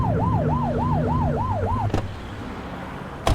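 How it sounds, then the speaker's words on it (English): Police car siren from The Precinct video game wails in a fast repeating rising-falling cycle over a low engine hum, then cuts off, leaving road rumble and a couple of sharp thumps. "Get on their tail and flip the siren."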